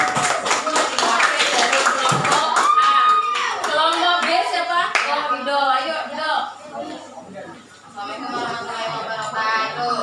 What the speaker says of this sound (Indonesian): Tepuk tangan buat Alif